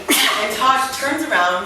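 A sudden sneeze bursts out near the start, partly covered by a man's ongoing speech, which continues through the rest of the moment.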